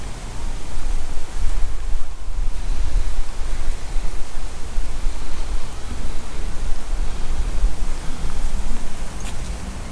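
River Eden flowing at Carlisle, a steady broadband rush of moving water filling the scene evenly and loudly, with no pauses or voices over it.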